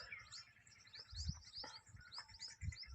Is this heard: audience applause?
no